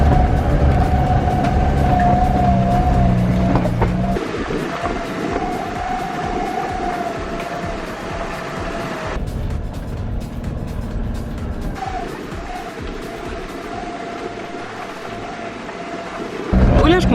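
A 4x4 vehicle grinds along a rough mountain track in Montenegro with a steady engine drone and rumbling, bumpy road noise that shifts in tone as it goes, loud and close from inside the cabin.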